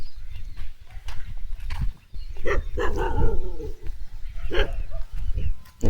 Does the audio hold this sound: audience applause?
no